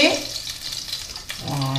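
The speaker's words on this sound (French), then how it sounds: "il va falloir faire dorer ces rondelles de saucisses dans l'huile" Sausage slices browning in sunflower oil in a pan for rougail saucisses, a steady close hiss of frying throughout with a brief dip partway, no talk.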